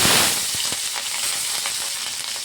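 Cumin seeds sizzling in hot oil for moong dal, a loud close crackling hiss with sharp pops scattered through it, no voices.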